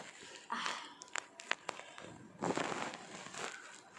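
A Glucovita Bolts packet is crinkled open up close in two rustling bursts with sharp crackly snaps between them.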